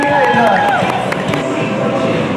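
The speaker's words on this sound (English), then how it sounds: "Big round of applause to all our judges" A crowd at a regional bus operators' competition claps and cheers for the judges, a steady wash of applause with voices and cheering mixed through it.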